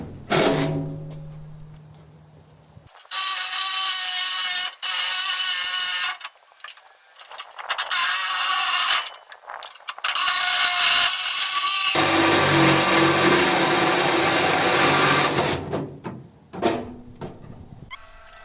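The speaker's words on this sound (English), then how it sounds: "here you're going to see me using my lithium-ion reciprocating saw to be able to cut out the radiator stay" A cordless lithium-ion reciprocating saw cuts through a radiator stay in an engine bay, loud rasping bursts of sawing that start and stop several times with brief quiet gaps between runs.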